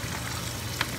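Grits cooking in a pot give a soft steady bubbling sizzle up close, with one brief scrape of stirring near the end.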